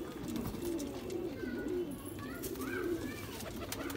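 Rampur pigeons coo in soft, repeated low calls close by, with faint bird chirps and background rustle around them.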